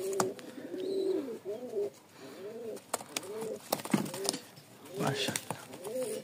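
Giribaz pigeons coo repeatedly in soft, rolling phrases close by, under someone talking, with occasional light clicks and rustles.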